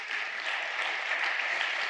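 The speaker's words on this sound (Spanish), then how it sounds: "Dan un fuerte aplauso al Rey." Steady applause from a church congregation honoring the King during a Spanish-language sermon, a dense continuous wash of clapping holding at even loudness for two seconds with no voices over it.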